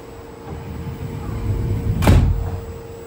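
Low rumbling hum that builds, then a sharp thud with a hiss as Moscow metro train sliding doors shut, followed by a fading rumble.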